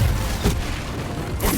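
A fire spell is cast in the Hogwarts Legacy video game: two heavy booming blasts, one near the middle and one at the end, over a steady low rumble of battle.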